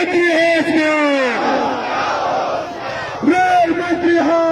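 A crowd of protesters at a railway privatisation rally in Banaras shouts and chants in loud, overlapping voices, sustained throughout, with a brief lull before the chanting swells again near the end.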